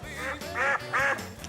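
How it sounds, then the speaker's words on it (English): Three nasal duck quacks in a row, evenly spaced and fairly loud, played as a comic sound effect during a television football panel show. "Quack, quack, quack."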